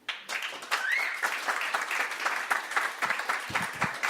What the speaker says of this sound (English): give him a big round of applause for that